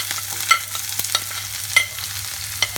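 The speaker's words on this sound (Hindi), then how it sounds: "हमारा ऑयल बिल्कुल गरम हो गया है। अब मैं इसमें प्याज डालूंगी पहले।" Onion frying in hot oil in a pan for broccoli Manchurian, with a steady sizzle broken by scraping stirs and occasional clinks of a spoon against the pan, close and clear with no talk.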